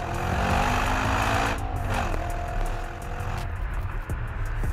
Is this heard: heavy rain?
no